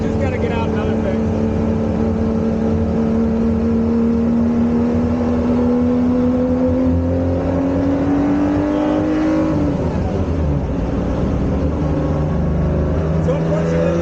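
Original V12 Ferrari 250 GTO driving at speed, its engine a loud continuous high-revving drone with a rising pitch, a gear change near the end, and road and wind roar throughout.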